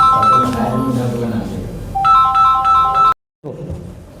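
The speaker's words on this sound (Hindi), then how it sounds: "मेरा फ़ोन बज रहा है।" A mobile phone ringtone chimes in a repeating tonal pattern, close and fairly loud, over a teacher's Hindi lecture; the ringing breaks off abruptly before the talk resumes.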